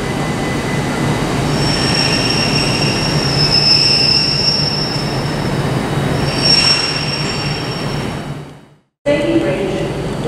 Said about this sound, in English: arriving now is what will be the 1617 Transpennine Express service to Huddersfield